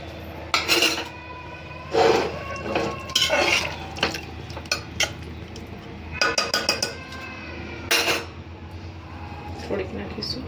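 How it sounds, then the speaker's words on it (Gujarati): Dhokli pieces being crushed into curry in a cooking pot, heard as repeated metallic scraping and clinking of a utensil against the pot in short bursts, close up, with a voice speaking between them. "2-3 ઢોકળીનો આવી રીતે ભૂકો કરી નાખી દઈશું એટલે આપણો રસો ઘટ થઈ જાય."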